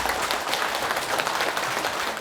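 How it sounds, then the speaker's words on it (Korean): An audience at a Buddhist ceremony claps in thanks to a senior monk of Haeinsa temple, a full, dense round of applause at steady loudness with no speech over it. "우리 모두 큰 박수로 마음을 모아 감사의 뜻을 올려주시기 바랍니다"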